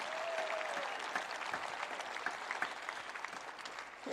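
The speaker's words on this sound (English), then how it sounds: "Shall we applaud again for the wonderful morning?" A church congregation applauds during a Sunday morning service, steady dense clapping from many hands at moderate distance, holding evenly for around four seconds with no talking.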